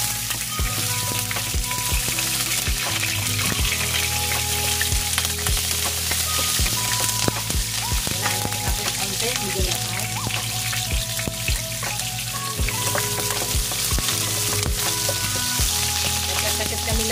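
Onions sautéing in a little oil, a dense close crackling sizzle that runs continuously with scattered pops and a low background hum, fairly loud and steady throughout.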